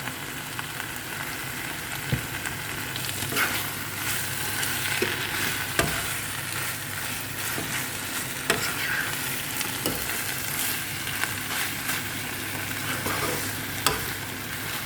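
Tuna cooks in a little olive oil in a pan, giving a long even sizzle with occasional spatula taps and scrapes spaced through it, close and steady, no speech.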